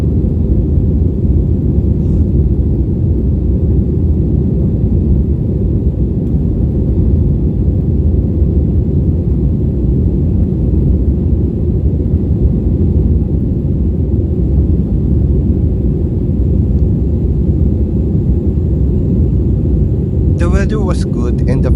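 Inside a Scoot Airlines plane cabin during taxi and takeoff, a loud, steady low engine and road rumble fills the space continuously, with a brief rattling burst near the end.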